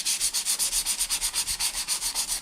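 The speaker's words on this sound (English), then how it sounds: "And just give that a good sand." Drywall filler patched around a newly installed toilet roll holder is sanded by hand with fast, even back-and-forth strokes, a steady rhythmic rasping heard close up and alone.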